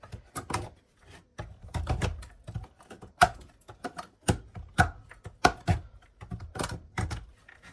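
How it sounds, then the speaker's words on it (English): Knife chopping chocolate on a cutting board while making a ganache for a peppermint chocolate Christmas cake: a series of sharp, uneven thuds and taps, close and fairly loud, with short pauses between bursts. "Just chop it so that the cream can dissolve it."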